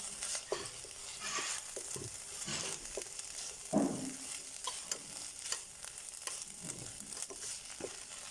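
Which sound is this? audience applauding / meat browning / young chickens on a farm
meat browning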